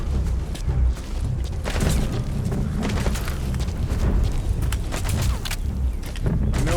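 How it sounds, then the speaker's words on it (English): Grenades in Metal Gear Solid 5: The Phantom Pain go off as loud, heavy booms, with rumbling blasts and debris noise rolling one after another across the stretch. "That's pretty cool, those grenades."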